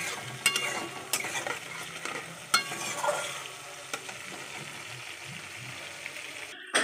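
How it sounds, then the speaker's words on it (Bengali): A tomato mixture fries in a pan while being stirred for a chitol fish curry, with a gentle sizzle and sharp intermittent scrapes of the spatula against the pan. "তো চলো এটাকে এখন ভাজতে থাকি।"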